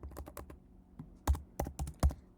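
Keys clatter on a computer keyboard in a quick, soft burst of typing with a few heavier keystrokes, close and quiet with no voice over it.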